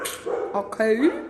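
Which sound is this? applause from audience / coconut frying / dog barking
dog barking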